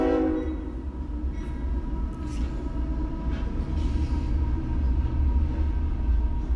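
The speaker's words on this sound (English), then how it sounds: "And here comes the train," A train in The Sims 4 rumbles past at a steady, moderate level, with a horn tone sounding at the start over the low rolling drone.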